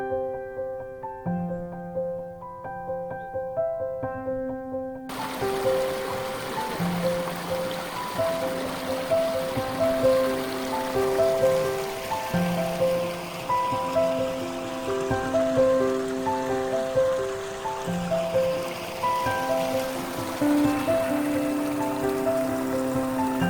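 A shallow mountain river on the Roopkund trek rushes and splashes steadily at a low-water crossing, a continuous close flow heard beneath music.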